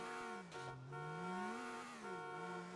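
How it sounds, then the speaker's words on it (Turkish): A car engine in the video game GTA Vice City Next Gen Edition hums steadily, its pitch dipping and rising as it revs, fairly quiet and with no voices. "GTA 4'teki arabanın, arabaların sesini de eklemişler galiba."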